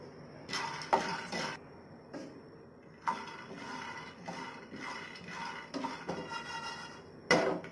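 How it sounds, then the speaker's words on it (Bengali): A cup of peanuts is dry-roasted in a preheated pan. Scattered scraping and rattling bursts come from stirring, some louder clacks stand out, and quiet gaps fall between them. "এটা আমি এখন ভেজে নিব প্যানে।"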